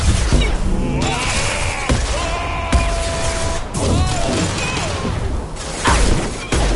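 Impact gun fired in Mass Effect 2 combat, a run of sharp crashing blasts and shattering bursts over music and battle noise, loud and close.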